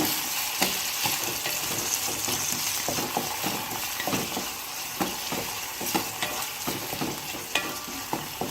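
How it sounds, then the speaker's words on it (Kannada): Tomatoes fry in ghee with salt for tili saru, giving a close, steady sizzle broken by frequent rhythmic scraping and clinking of a stirring spoon against the pan, with no talking. "ತುಪ್ಪದಲ್ಲಿ ಟೊಮೊಟೊ ಫ್ರೈ ಆಗ್ತಾ ಇದ್ದರೆ ಘಮ ಅಂತ ಪರಿಮಳ ಬರುತ್ತೆ"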